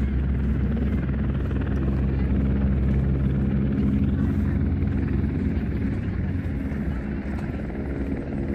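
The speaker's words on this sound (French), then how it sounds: "Les hélicoptères sont là." Steady, loud helicopter rotor drone fills the scene at the Dakar Rally 2024 in Saudi Arabia, a continuous throbbing roar that holds close and constant throughout.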